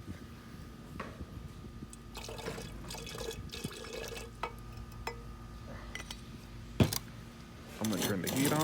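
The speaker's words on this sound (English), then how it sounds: "I'm going to add about 30 milliliters of nitric to get it started." Distilled water and nitric acid poured into a vessel while refining gold from a gold-filled pocket watch, with brief splashes, drips and clinks of glassware over a low background hum.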